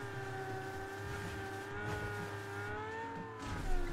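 A Lamborghini in PUBG driving off-road, its engine holding a steady, droning hum with slight pitch wobble over rough ground, close and continuous, with no talking.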